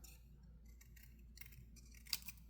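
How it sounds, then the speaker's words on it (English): Scissors snip through a thin paper edge in a quiet room, a few soft crisp cuts with one sharper clip near the end, faint and close. "I can remember trying to cut this little white edge off before."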